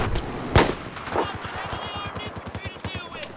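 Rapid gunfire in a Battlefield 4 Conquest match on the Paracel Storm map: a sharp single shot, then a fast, steady automatic burst rattling on. A voice talks over the shooting.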